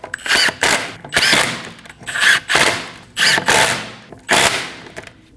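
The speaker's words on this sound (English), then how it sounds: "install the rest of the lug studs. Snug them down with a gun." An impact gun on a 2012–2022 Volkswagen Passat fires about six loud, close bursts of rattling hammering, each under a second long with brief pauses between them, as it snugs down the lug studs.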